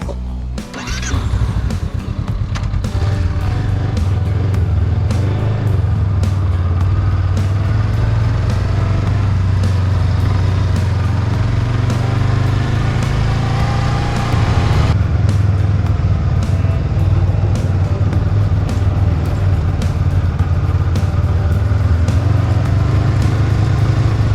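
A Honda CB500X motorcycle ridden on a mountain route up Cerro de la Muerte, its engine droning loud and close throughout with a steady rumble, shifting pitch and wind noise and no voices.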